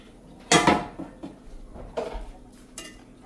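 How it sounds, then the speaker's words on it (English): A spoon scrapes and clanks against a pot while cooked jasmine rice is mixed: one loud scrape followed by several softer knocks and stirs, close by, with no talking. "So this has been cooking for 30 minutes. And I have not opened the top in 30 minutes. I'm gonna mix it."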